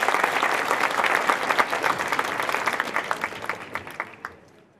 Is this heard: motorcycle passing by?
no